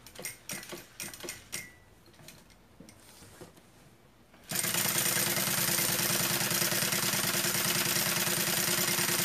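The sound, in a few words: sewing machine topstitching a synthetic bag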